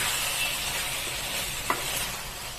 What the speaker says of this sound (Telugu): ఇప్పుడు దీన్ని బాగా మిక్స్ చేసుకుందాం